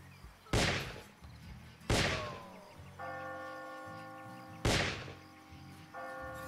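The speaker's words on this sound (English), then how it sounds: "that guy's shooting right now" Gunfire in the arcade western shooter Western 1849 Reloaded: three loud, sharp shots spaced a second or two apart, each decaying quickly. Sustained tonal game music or chimes fill the gaps.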